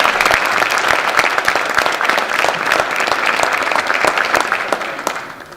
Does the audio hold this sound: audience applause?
yes